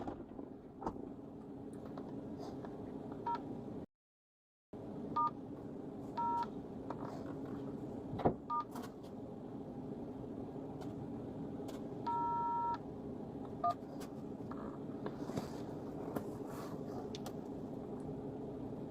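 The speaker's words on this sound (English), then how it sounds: "Calling Andrea Harper." Telephone dialing tones from a call placed through Siri, several short beeping bursts of touch tones spread across a quiet background with engine hum, some in quick repeated runs.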